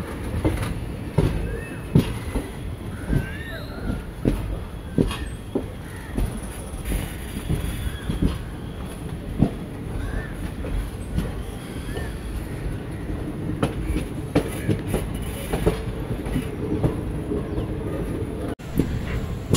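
The Circar Express train arriving at Puducherry station after a run from Kakinada Port, with a rumble of rail cars and repeated clanks and knocks in a noisy station setting.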